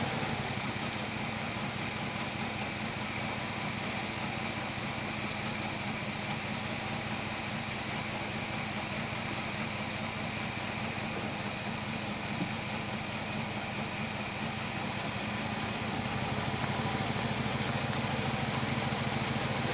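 An abandoned 1966 Chevy Biscayne big block V8 idles steadily and continuously at close range, with a dense, even rumble and mechanical clatter that gets slightly louder near the end.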